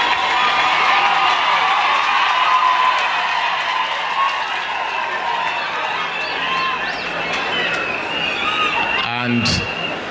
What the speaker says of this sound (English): He was actually given a standing ovation, and the mourners were cheering him in.